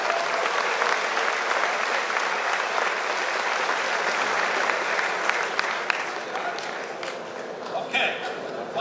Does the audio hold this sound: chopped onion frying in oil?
no